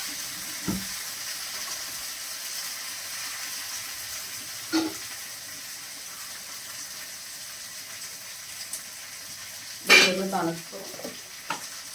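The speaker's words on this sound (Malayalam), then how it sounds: "കടുക് വറുക്കാനായിട്ട് കൊച്ചുള്ളി കറിവേപ്പില വറ്റൽ മുളക്" Mustard seeds, shallots, curry leaves and dried red chillies sputter in hot coconut oil, a steady close sizzle for sambar broken by a few sharp pops and utensil clinks.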